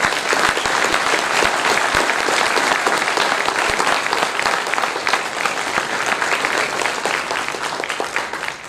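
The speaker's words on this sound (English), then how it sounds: "Let's give him a round of applause." Loud, sustained applause from an evening audience welcoming a speaker on stage, a dense, even roar of clapping that holds strong throughout.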